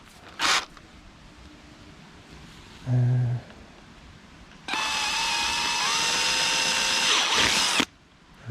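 Power drill enlarging a hole to 5mm, two short bursts followed by a long steady whine of about three seconds that ends abruptly, close and alone.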